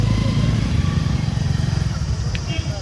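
A vehicle stuck on a road during a large temple chariot festival at Anthiyur, Tamil Nadu, its engine droning loudly and steadily with pulsing low rumble throughout, crowd voices underneath.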